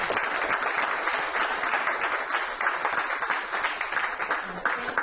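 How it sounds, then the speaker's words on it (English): An audience claps steadily and fairly loudly for several seconds for a panel of speakers, a dense patter of many hands without pause. "Can we give them another round of applause?"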